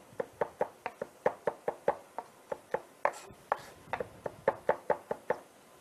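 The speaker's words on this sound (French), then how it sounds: "on va vraiment les hacher finement en gardant la pointe du couteau sur la planche, comme ceci." A kitchen knife finely chopping on a cutting board, tip held against the board, makes a close, steady run of about twenty crisp knocks in quick rhythm with no talking.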